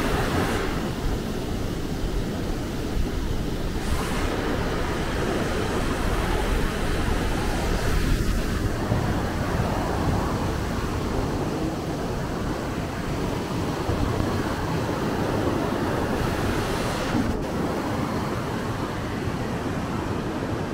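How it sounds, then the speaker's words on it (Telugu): Fast-flowing river water near Kedarnath in the Himalayas rushes past in a constant, dense roar of broadband noise, steady and fairly close, with occasional wind gusts and no speech. "వాటర్ ఫ్లో చూడండి ఎంతగానో స్పీడ్ పోతుంది"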